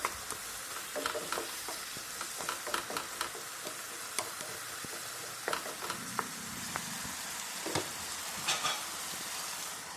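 Spinach being stirred in a hot pan for a spinach egg curry, with scattered light scrapes and taps over a low, faint sizzle and no speech.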